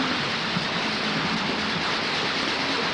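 A train moves steadily in a 1936 spy film, its carriages producing a continuous rumbling, hissing roar with faint rhythmic clatter and no voices.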